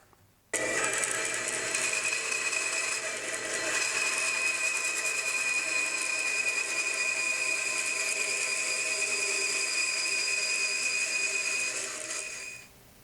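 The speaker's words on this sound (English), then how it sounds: "we'll go cut them out on the bandsaw" A bandsaw cutting shaped wood blanks for router template work, a sharp steady high whine that starts abruptly, runs evenly for about twelve seconds and then winds down, heard close with no talking.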